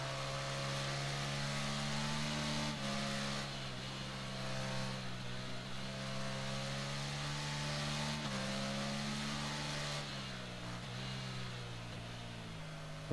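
A 2014 Ducati Monster 696 motorcycle in the racing game Ride 3 drones along with a steady engine hum, pitch shifting through gear changes as it cruises and revs, with no talking.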